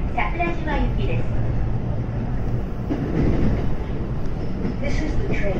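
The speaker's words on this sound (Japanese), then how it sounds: "この電車はユニバーサルシティ方面桜島行きです" A JR Yumesaki Line train runs toward Sakurajima, giving a steady, loud rumble of wheels and carriage noise throughout, with a faint voice in the background.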